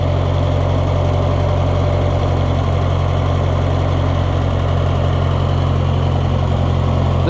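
An Oliver 1250 tractor engine idles steadily and loudly at close range, running rich with a constant low rumble and no speech over it.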